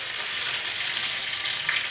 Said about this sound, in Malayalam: നമ്മൾ എടുത്ത് വെച്ചേക്കുന്ന കടുക് പൊട്ടി വരുന്നുണ്ട്